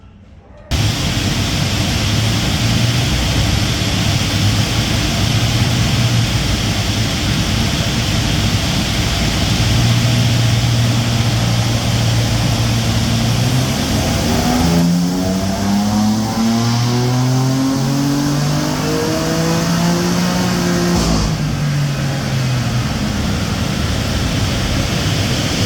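BMW F80 M3 with S55 engine on a hub dyno, a loud sustained run with a steady drone rising into sweeping revs and a climbing engine note, fading slightly toward the end amid heavy broadband roar.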